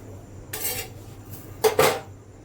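Roti being made at night on a tawa griddle, with two short bursts of metallic clatter and scraping of cookware against the pan, close and fairly loud over a quiet kitchen background.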